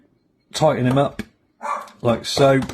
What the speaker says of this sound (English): if you can hear a dog barking in the background,